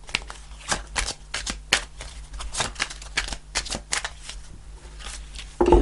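Rapid riffling of a tarot deck, repeated in quick bursts with short pauses between, crisp and close with no voices.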